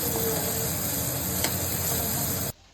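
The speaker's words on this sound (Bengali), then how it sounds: "আর ওদিকে ফ্রাইড রাইসের জন্য গাজর ক্যাপসিকাম বিনসগুলো একটু ভেজে নেব।" Carrots, capsicum and beans frying in a pan for fried rice, a steady loud sizzle and hiss up close that cuts off abruptly near the end.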